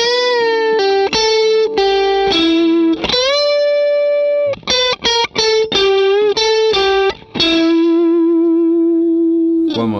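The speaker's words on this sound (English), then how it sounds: "So the second or the last part of the solo altogether with real slow tempo sounds like this." Slow blues guitar solo in E played at a very slow tempo, with sustained, bent notes and short phrases on an effects-laden, lightly distorted electric guitar, loud and alone with no talk.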